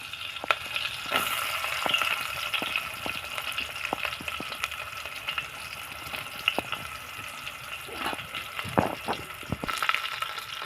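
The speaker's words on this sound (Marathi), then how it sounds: "तेल गरम झालेलं आहे आता आपण कांदा टाकून घेऊया लाल होईपर्यंत कांदा भाजून घेऊया" Onion sizzles and crackles in hot oil in a pan. Steady frying hiss runs throughout, with sharp pops and spatters scattered across it. The sound is close, and no voices are heard.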